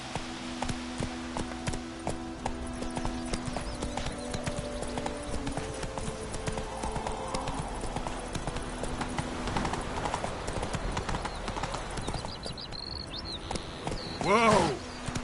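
Hooves of Roach, a video game horse, gallop in a rapid steady clip-clop under faint game ambience, ending with a brief whinny.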